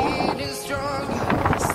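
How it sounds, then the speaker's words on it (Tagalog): Strong outdoor wind buffets the microphone in loud, rumbling gusts, a short burst of roaring noise with no clear voice over it. "Ang lakas ng hangin."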